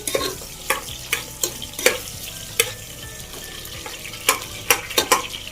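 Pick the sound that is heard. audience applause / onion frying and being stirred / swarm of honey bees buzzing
onion frying and being stirred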